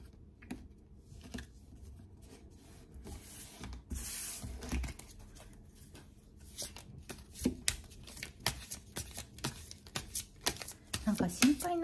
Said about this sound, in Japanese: シャッフルが少なめで、いつもすごいぐるぐる長く回すんですけど